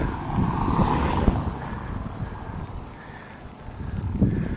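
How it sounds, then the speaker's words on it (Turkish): Strong wind buffets the microphone on a street in Şarköy, Turkey, in loud, uneven gusts that swell and ease, with no voices. "Rüzgar dinse daha da güzel olacak"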